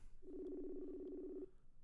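A steady electronic phone tone sounds for about a second and a quarter at a faint, even level, one continuous beep against a low background hiss.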